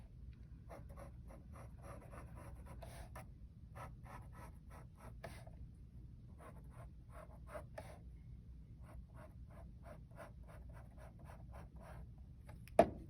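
Pencil drawing lines on paper for a portrait sketch, a series of soft, quiet scratchy strokes in short bursts with brief pauses, close and faint, ending with a small tap.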